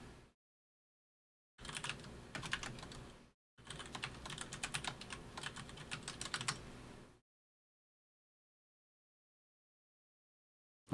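Fast typing on a computer keyboard comes in two bursts of rapid, close key clicks separated by a brief pause, with silence before and after.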